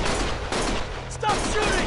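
Gunfire in the video game Lost Judgment, a loud sustained broadband volley of shots with brief breaks, mixed with in-game sound and faint voice activity.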